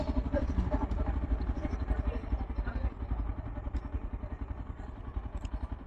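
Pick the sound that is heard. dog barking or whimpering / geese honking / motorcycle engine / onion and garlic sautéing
motorcycle engine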